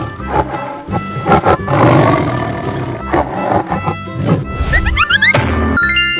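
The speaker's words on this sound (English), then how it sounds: "Tiger." A cartoon tiger lets out a loud, growling roar amid busy music and other cartoon sound effects, with a rising whistle-like flourish near the end.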